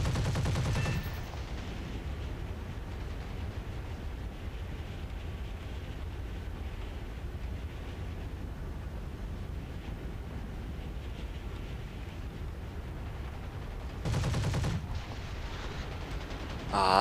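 Aircraft guns rattle in War Thunder, a sustained dense burst of rapid machine-gun fire running almost the whole stretch, with short louder bursts at the start and again near the end.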